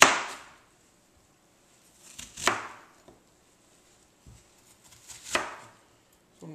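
Kitchen knife chopping vegetables on a cutting board for pepper steak, a few separate sharp chops spaced seconds apart, close and crisp with quiet gaps between.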